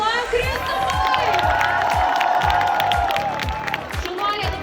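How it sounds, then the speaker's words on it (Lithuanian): Outdoor crowd at a Vilnius city festival stage clapping and cheering for a young boy dancer, a dense, loud wash of applause and shouts with a rhythmic beat underneath. "Plojam Kristupui!"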